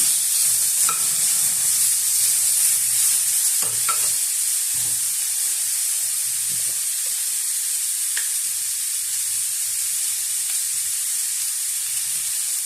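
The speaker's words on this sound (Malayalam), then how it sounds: "ഇതെല്ലാം കൂടി ചേർത്ത് നന്നായിട്ട് ഇളക്കാം" Tomato masala for peanut sambar sizzles in a hot pan with a loud, steady hiss. Occasional soft spoon scrapes and taps come from the stirring, and no one speaks.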